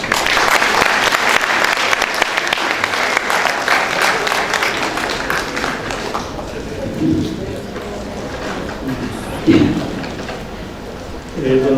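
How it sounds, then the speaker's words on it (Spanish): An audience at a talk on Bolivian craft beer applauds loudly as an engineer is welcomed, a dense burst of clapping that fades after several seconds into room noise and a few stray sounds. "Recibamos con un fuerte aplauso"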